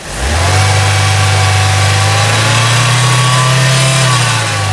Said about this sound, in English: let's put some revs on